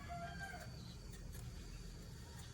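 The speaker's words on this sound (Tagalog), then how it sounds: "mga aso at manok" Farmyard chickens clucking with a rooster crowing, faint and distant against steady background noise, brief calls scattered through the scene.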